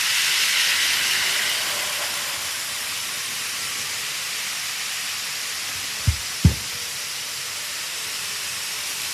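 A model train pulls into a station on a layout, a soft hissing rumble that fades gradually, followed by two quick sharp knocks near the end, with no talking.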